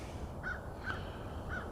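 Birds call out over a lake still partly covered in ice, with seagulls and ducks present: three short, harsh calls spaced evenly across a steady outdoor background, moderately distant.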